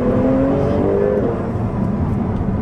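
A 2021 Porsche 911 Turbo S with a manual gearbox accelerates at full throttle in third gear, its engine a loud, steady, rising roar heard from inside the car throughout.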